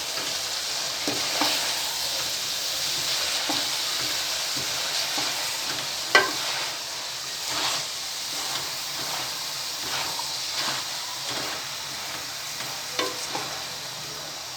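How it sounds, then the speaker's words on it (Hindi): Potatoes, spinach and mutton stirred together in a pan for palak gosht, a soft continuous sizzle and hiss with occasional sharp clinks and scrapes of the spoon, steady and fairly quiet, no voices. "आलू पालक और गोश्त को अच्छी तरह मिक्स करते हैं"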